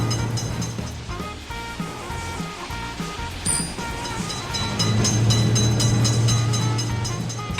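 At a road level crossing, one of back-to-back trains runs past close by, a continuous heavy rumble with faint clattering of cars that swells a little louder toward the end.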